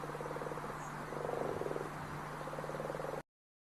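A frog croaks in a steady rapid pulsing rhythm, close and clear, over a constant low hum, with no other voices.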